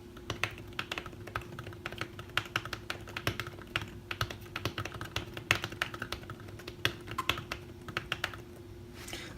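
Steady, quick typing on an Apple Smart Keyboard for iPad Pro: a dense run of soft, close key taps with small irregular pauses, heard alone against a faint background hum.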